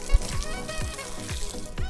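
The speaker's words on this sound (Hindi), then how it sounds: "थोड़ा सा ही हम लोग पानी डालेंगे इसमें, ज़्यादा पानी नहीं डालेंगे" Water splashes and sloshes continuously up close, with a few low thumping surges as it pours.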